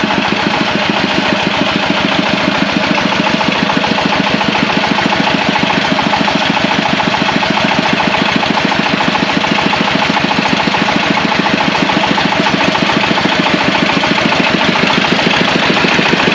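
Well drilling rig engine at a drinking-water plant, running loud and close with a steady rapid thrum that continues unchanged throughout, no voices.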